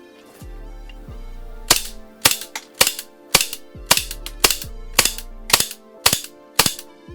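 A Tyrant 2011 gas blowback airsoft pistol fires BBs in a series of about ten sharp, loud cracks, each with a mechanical slide clack, spaced unevenly over several seconds, with metallic rattles and a low hum between shots.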